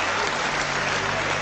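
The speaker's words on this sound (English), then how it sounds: "that's the first time I've ever received such applause" A parliamentary chamber bursts into applause after a speech, a loud, dense, continuous clapping from many hands with no break.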